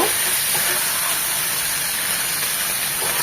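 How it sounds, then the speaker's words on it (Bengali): Long flat beans fry in hot soybean oil in a pan, giving a loud, steady, unbroken sizzling hiss with no voices. "জাস্ট 1 থেকে 2 মিনিট সিমটাও তেলে একটু হালকা করে ভেজে নেব।"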